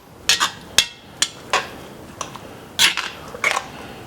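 A spoon clanks and scrapes against a pot while red and green peppers are stirred into a catfish stew, several sharp metallic knocks in an uneven rhythm, close and fairly loud, with no talk.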